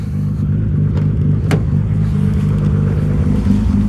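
A Nissan Skyline R32 GTR with a big single turbo idles loud and close, its lumpy, uneven cam-driven rumble pulsing steadily throughout.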